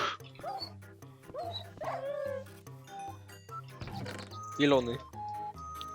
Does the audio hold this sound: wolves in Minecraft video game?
yes